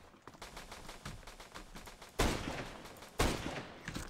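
Gunfire in Roblox Flag Wars during a sniper-only match: two loud, sharp shots about a second apart, over quieter game noise and a few faint earlier pops.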